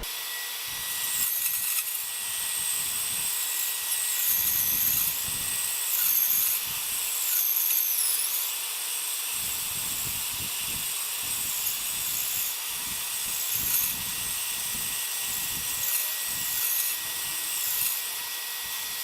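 A Rikon 10-305 benchtop bandsaw cuts wood with a dust collection hose attached, giving a continuous motor and suction drone overlaid by repeated rasping bursts of blade cutting, fairly close.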